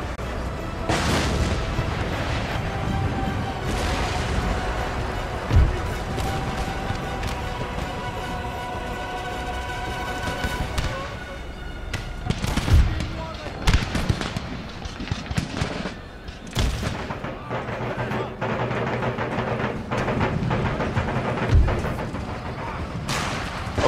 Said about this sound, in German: Schießt er eigentlich mit seinen Kanonen irgendwie auf meine Mauern? Ja, er schießt zumindest.